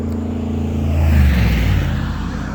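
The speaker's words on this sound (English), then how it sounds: "I did not realize how loud the traffic was going to be." A vehicle rushes past on a street at night, loud and close, its engine rising then giving way to broad tyre and road noise over a few seconds.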